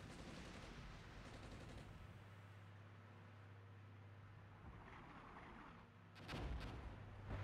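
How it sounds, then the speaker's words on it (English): Artillery fire landing in the wargame Armored Brigade, Soviet side: a steady, rumbling barrage of distant impacts and low booms, with a sharper, louder blast near the end. "Artillery fire landing."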